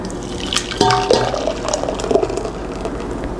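Blended black bean soup is poured from a blender back into a pan, a close thick liquid splashing and glugging for a couple of seconds over a steady background hum.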